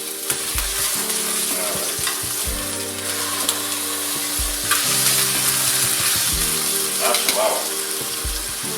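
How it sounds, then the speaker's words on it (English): Beef for Beef Wellington sears loudly in a hot pan, a steady dense sizzle with occasional stirring and scraping, as a voice speaks briefly over it. "Pan's staying nice and hot. You can see we're still getting good sear there."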